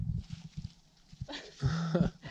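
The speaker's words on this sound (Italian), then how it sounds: "Tutti i cani qua sono educatissimi perché aspettano fiduciosi di ricevere qualcosa" Dogs living on an active volcano in Guatemala beg hikers for food, making a close, soft whimpering whine with a brief sustained tone amid light rustling and handling noise, with no talk.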